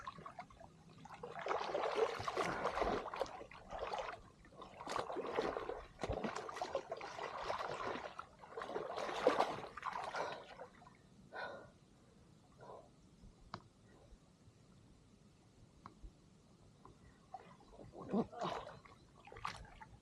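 Water splashing and sloshing in bursts as a person struggles into a life jacket while floating in open water, with heavy, irregular splashes through the first half, then quieter stretches and a few later splashes.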